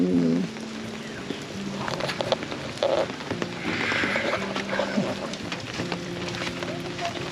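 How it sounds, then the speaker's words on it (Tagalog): Steady rain patters on and around a minivan campsite at night during a storm, a constant soft hiss with scattered drips and taps, and faint voices murmur in the background. "Hindi tayo tinigilan ng ulan."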